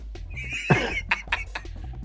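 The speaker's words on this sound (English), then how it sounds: "Someone should stay and watch the horses." A horse gives a sharp, loud whinny in the fantasy film Conan the Destroyer, a single brief neigh amid soft rustling and low background rumble.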